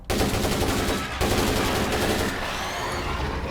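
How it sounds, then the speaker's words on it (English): Loud, continuous bursts of gunfire in the video game State of Decay 2, rapid shots blending into a dense barrage with a short break near the start. "So I'm going to start with the gun again."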